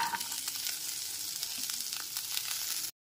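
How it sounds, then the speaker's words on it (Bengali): Carrot, bean and cauliflower pieces fry with ginger paste in a pan over a low flame, giving a close, steady sizzle with faint stirring crackles before cutting off abruptly at the end. "আদা বাটাটা একটু নাড়াচাড়া করে নেওয়ার পর এতে দিয়ে দিচ্ছি গাজর, বিনস আর ফুলকপির টুকরোগুলো।"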